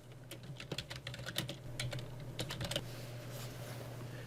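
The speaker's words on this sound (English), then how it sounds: "You can type whatever you want there." Fingers tap out text on a computer keyboard, a quick run of soft, uneven clicks close by over a low steady hum, easing off toward the end.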